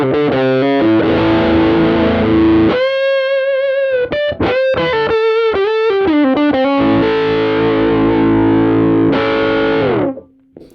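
Electric guitar on its bridge pickup with the tone knob fully rolled off, run through a Kemper treble booster: loud, distorted, sustained notes and chords with a throaty, nasal edge, a few quick choppy bursts, then a fade to near silence.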